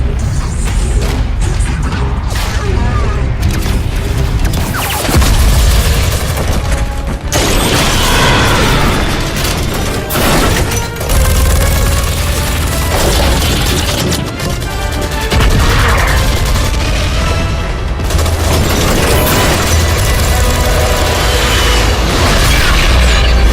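Loud, dense in-game battle sound from Destiny 2, with heavy booms and explosion blasts layered over mechanical clatter and rapid gunfire, running continuously for the whole stretch.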